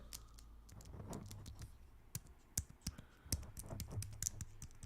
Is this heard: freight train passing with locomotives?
no